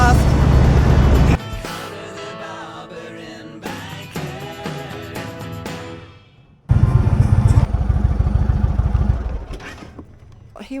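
A Roadmaster motorcycle cruises along a scenic coastal road, its engine rumbling close and loud under wind noise, dropping away briefly before surging back as the bike accelerates.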